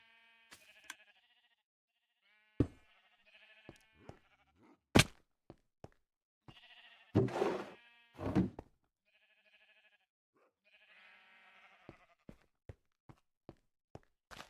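Several Minecraft sheep bleats, game-like and clean, recur over the stretch, mixed with sharp thunks and clicks against near silence.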